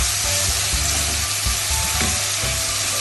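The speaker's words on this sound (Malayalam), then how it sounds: "സവോള നമ്മളിങ്ങനെ ഇളക്കി കൊടുക്കണം." Sliced onions fry with jaggery, fennel and cardamom in a pan for a Kerala chicken curry, giving a constant close sizzle with periodic stirring scrapes underneath.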